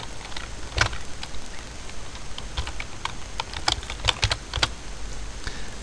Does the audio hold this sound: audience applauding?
no